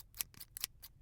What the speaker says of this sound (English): those are scissors cutting some paper